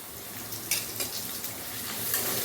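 Capsicum and chillies stir-fry in a hot pan for dragon chicken, a steady close sizzle broken by a few sharp scraping stirs of a spatula, with no talking.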